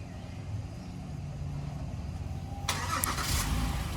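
A 2015 Acura MDX engine starts remotely: steady outdoor background, then a sudden crank and catch partway through that settles into a smooth, fairly close idle.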